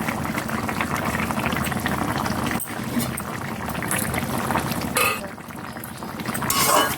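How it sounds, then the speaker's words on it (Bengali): Tilapia pieces go one by one into a pot of bubbling liquid, heard as a continuous close boil and simmer with a few clinks and brief splashes and no voices. "এবার আমি মাছগুলো দিয়ে দেবো একটা একটা করে।"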